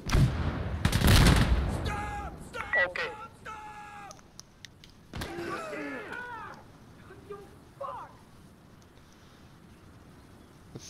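Gunfire from the video game Insurgency Sandstorm, with a loud burst of shots at the start and a few scattered reports later, under voice chat and talk.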